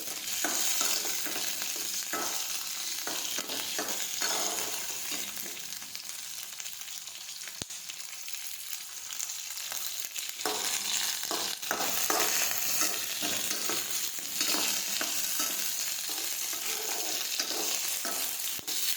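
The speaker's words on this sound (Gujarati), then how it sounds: "હવે આપણે ટિંડોરા અને મરચાં નાખી દઈશું. હવે આપણે એને સાતળી લઈશું. આ રીતે સાતળતા જવાનું છે." Tindora (ivy gourd) and chillies stir-fried in a pan for a Gujarati sambharo, a steady close sizzle with scraping stirs throughout, no talking.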